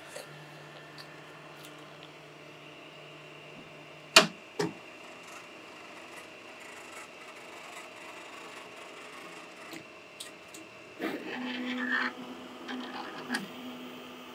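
A fast 3D printer, a Celeritas build with LDO Superpower HT motors, lays down its first layer slowly, giving a quiet steady stepper-motor whine with changing tones, a couple of sharp clicks and soft ticking, no talk.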